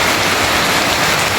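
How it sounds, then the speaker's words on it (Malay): Heavy rain pours steadily during a fishing trip on a raft, a loud dense wash of drops with no break. "Hujan lebat guys."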